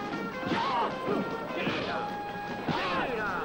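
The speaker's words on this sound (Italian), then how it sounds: "che ha preso a schiaffi un quarto di bue." Bud Spencer-style punch sound effects, made by slapping a quarter of beef, land as several heavy smacking thwacks over a busy, cluttered background with voices and tonal sounds mixed in.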